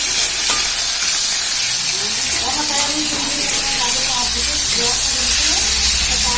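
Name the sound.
meat frying in a pan for soup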